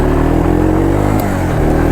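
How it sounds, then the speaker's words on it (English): The 200cc air-cooled engine of a 1983 Yamaha Tri-Moto 200 three-wheeler pulling hard on the road, giving a loud, close, steady drone with a deep low throb. "Now this is just a 200cc air-cooled engine"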